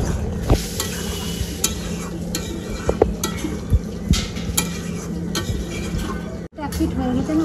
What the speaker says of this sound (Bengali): আবার একটু নাড়া দিয়ে নিব।